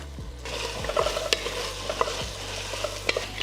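Chopped onions, carrots and celery sizzle steadily in a pot for chicken and dumplings, with close, intermittent scraping and clicking as they are stirred and no one speaking.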